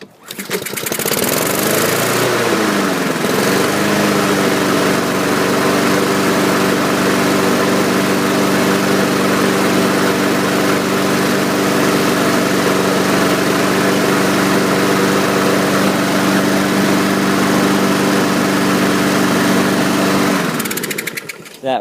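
A 2015 Husqvarna HU 700H lawn mower with starting trouble runs loud and close, its engine surging up and down in revs at first, then settling into a steady drone for about twenty seconds before shutting off.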